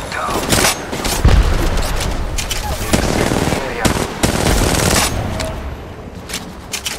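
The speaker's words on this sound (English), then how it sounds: "Throwing through my grenade." A grenade blast and rapid gunfire in a team deathmatch of the mobile shooter Apex Legends Mobile, loud and dense, with sharp bursts of shots and a heavy thump.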